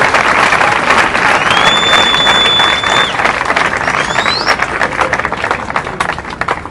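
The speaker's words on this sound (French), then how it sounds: "Lelo na kosenga bino bo applaudir makasi mpona bapanzi ya sango na biso batelemi liboso." Loud, sustained audience applause for journalists at a political gathering, a dense continuous wash of clapping with some crowd noise and brief whistle-like tones partway through.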